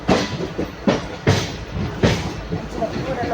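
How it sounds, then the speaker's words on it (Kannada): A Mumbai local train rolls past close by, a steady rumble broken by rhythmic clattering thumps from the wheels over about three seconds. "ಪೂರ ಲೋಕಲ್ ಟ್ರೈನ್ ಹೋಗ್ತದೆ"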